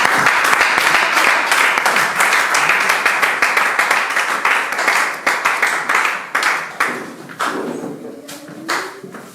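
Church congregation applauding, dense loud clapping that gradually thins into scattered, slower claps before fading.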